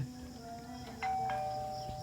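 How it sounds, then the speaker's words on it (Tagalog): An electronic doorbell chimes indoors, with a clear tone that sounds, is held, and then lingers. It is moderately loud over a quiet room with faint background hum. "Ooh, may nag-doorbell."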